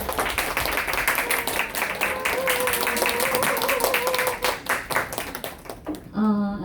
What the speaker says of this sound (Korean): 박수로 맞아주세요.